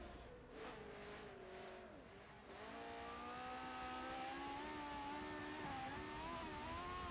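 Ferrari racing car in a 1960s Grand Prix video game, a continuous high engine whine that climbs and shifts pitch through corners, loud and steady, with a brief dip before revving back up.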